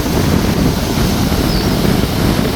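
Strong wind buffets the microphone in a constant, loud roar with no voices, steady throughout.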